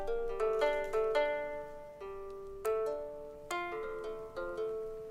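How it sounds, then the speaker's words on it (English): A clean Omnisphere software guitar plays a gentle picked melody of plucked notes with ringing sustain, moderately quiet and alone. "I only added a guitar here from Omnisphere."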